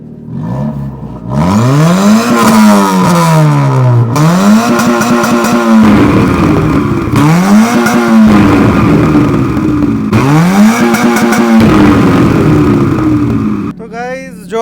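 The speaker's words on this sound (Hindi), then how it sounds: "पर ये एग्जॉस्ट सुना दोगे?" A Honda City's engine revs loudly in repeated bursts, each rising then falling, the exhaust roaring and crackling close by with brief pauses between revs.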